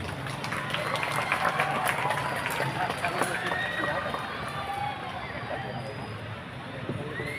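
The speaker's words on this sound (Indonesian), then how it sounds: "berikan tepuk tangan yang meriah." Festive applause from a large outdoor audience at a National Santri Day ceremony on the Garut town square, a dense steady patter of many hands with crowd murmur, fairly loud and easing slightly toward the end.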